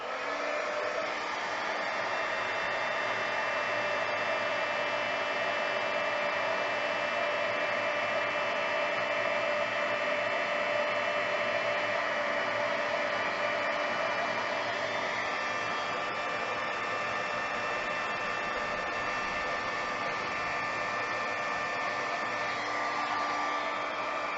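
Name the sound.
embossing heat tool blowing hot air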